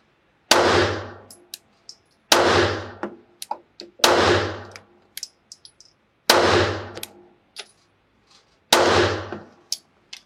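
A Hellcat Pro pistol fires five single shots at a steady pace, each a sharp, loud crack with a short ringing decay, followed by light clinks and handling noises between rounds.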